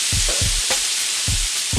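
Butternut squash with chorizo and spices fries in hot oil, a steady close sizzle punctuated by rhythmic low scraping thumps of stirring, roughly four strokes with no voices.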